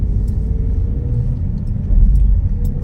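A Vauxhall Grandland X 1.2 turbo petrol car cruises with a steady low road-and-engine rumble, heard from inside the cabin with a slight swell near the end and no talking.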